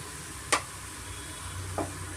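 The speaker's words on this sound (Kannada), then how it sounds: "ಇದು ಚೆನ್ನಾಗಿ ನಾವು ಫ್ರೈ ಮಾಡ್ಕೊಬೇಕಾಗುತ್ತೆ ಪಾಲಕ್ ಸೊಪ್ಪು ಸ್ವಲ್ಪ ಸಾಫ್ಟ್ ಆಗಬೇಕು" Spinach and tomato soften in a pan for palak dal, giving a quiet steady sizzle with two brief scraping stirs of a spoon, no voices.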